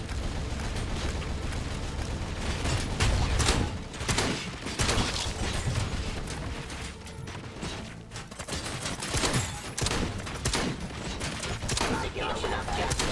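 Sustained, dense gunfire rattles in a Robocop-themed shooter game, with overlapping shots and blasts forming a loud, continuous barrage with no pauses.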